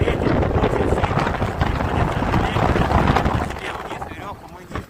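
Strong wind blows high on a swaying tower during industrial work at height, a loud, continuous buffeting roar across the microphone that eases off toward the end.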